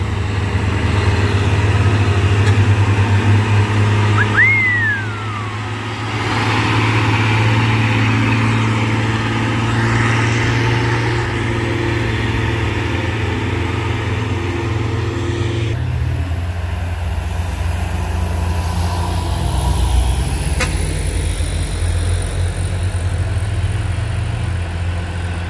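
A Hino dump truck engine running on a hill road, a loud steady diesel rumble that holds for the whole stretch, with a brief rising whine early on and a shift in tone midway.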